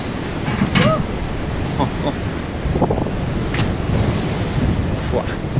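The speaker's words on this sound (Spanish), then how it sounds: "¡Qué locura de viento!" Strong, steady wind roars across the microphone on a cold, very windy day in Australia, a dense rushing broadband noise with gusty surges, while occasional faint voices and sounds come through underneath.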